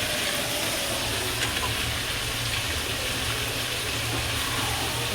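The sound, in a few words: water boiling in a pot for curry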